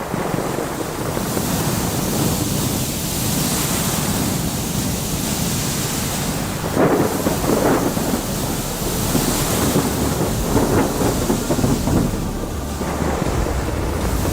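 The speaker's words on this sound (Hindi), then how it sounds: "धीरे धीरे तूफान और तेज होता जाता है और जहाज डूबने लगता है।" Stormy sea for a 2D animation scene where a ship is sinking, with a continuous loud roar of wind and crashing waves throughout.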